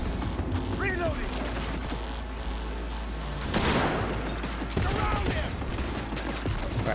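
Gunfire in the video game Cyberpunk 2077, a continuous stretch of rapid shots and bursts mixed with game effects, loud and busy, with a player's voice over the top.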